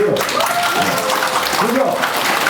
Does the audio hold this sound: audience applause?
yes